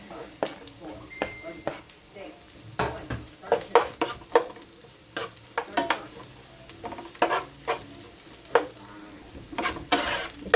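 Garlic and then onion sautéing in a pan for a vegetable dish, a low sizzle under repeated spatula scrapes and sharp clinks against the pan, close by.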